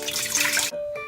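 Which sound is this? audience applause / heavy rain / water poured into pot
water poured into pot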